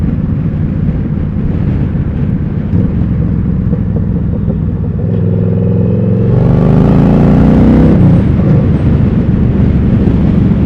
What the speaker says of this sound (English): They love the loud exhaust pipes from here.